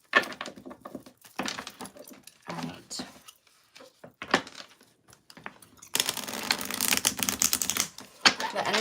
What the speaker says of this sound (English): Let's get a good shuffle though.